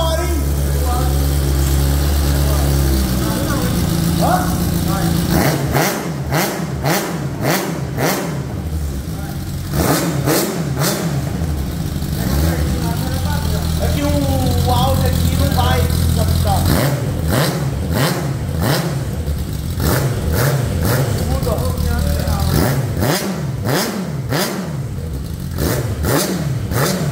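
Honda Fan motorcycle fitted with a Hornet 600 engine and a 2-in-1 exhaust, revving hard in repeated bursts with idling between, close and loud, with people talking over it.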